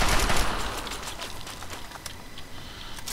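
Rifle fire in Fallout 3 from a sniper rifle using .308 rounds: a loud opening report decays into a rattle of repeated shots and echoing gunfire, fairly close and steady.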